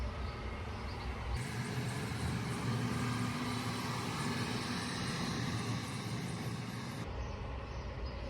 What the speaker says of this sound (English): there's another truck outside being loud